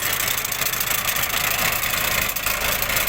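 A modernized potato digger with its conveyor running at idle produces a steady mechanical engine drone and rattling clatter, close and continuous, with no pauses.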